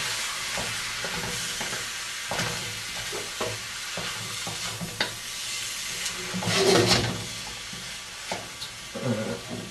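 Chopped fresh tomatoes being stirred into chilli in a pot, with repeated scraping and clinking of a spoon against the pan over a soft sizzle, growing briefly louder midway.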